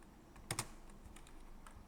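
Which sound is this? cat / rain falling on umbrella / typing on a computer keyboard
typing on a computer keyboard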